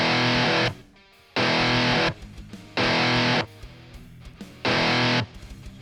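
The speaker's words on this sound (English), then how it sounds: "this is the reverb, how much reverb I'm using." Distorted rhythm guitars drenched in reverb in a rock demo mix, playing in loud chopped bursts with short gaps where the room tail rings out.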